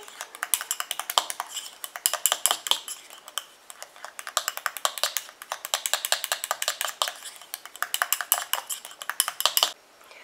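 A utensil stirring a calendula repair cream in a small dish, producing rapid rhythmic clinks and scrapes against the container, close and bright, continuing steadily with brief pauses.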